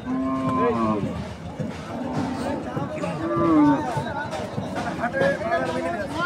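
Several cows moo at different pitches, some near and some farther off, at a cattle market in Alamdanga, over a busy background of crowd chatter and voices.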